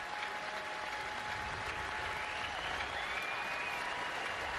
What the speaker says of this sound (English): The ovation from the crowd, both dugouts as well.